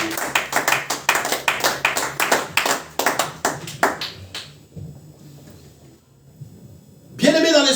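A church congregation at a Sunday service claps in a quick, steady rhythm for several seconds, then fades out; a voice rises briefly at the end.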